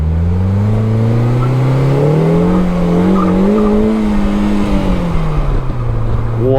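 A 2025 Polaris Slingshot with a 2-liter engine accelerates hard, its loud, close engine note climbing steadily in pitch, easing briefly, then rising again.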